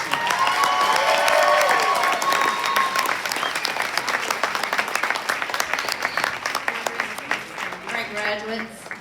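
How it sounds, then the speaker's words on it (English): A college graduation audience applauds the instructors with a dense, loud burst of many hands clapping, mixed with cheers and whoops early on, thinning toward the end as voices rise underneath. "let's give our instructors a round of applause"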